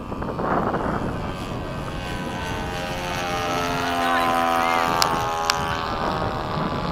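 An FMS 80mm Hawk radio-controlled model jet flying at a field, a steady whining turbine-like drone with shifting pitch as it passes, while people talk quietly nearby.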